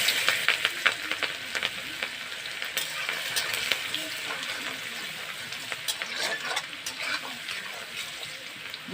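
Dried chillies and chopped garlic frying in a pan, a steady close sizzle with crackling spits and occasional stirring scrapes.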